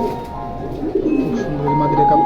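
Domestic pigeons, including a down-shaped hen, coo in low rolling phrases nearby while someone talks over them in a loft full of birds.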